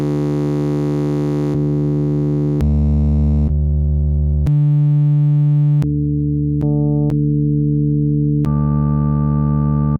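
A looped single-cycle wavetable synthesizer waveform in KORG Gadget plays as a steady tone, its timbre and pitch shifting abruptly every second or so between buzzy and purer waveforms, loud and alone.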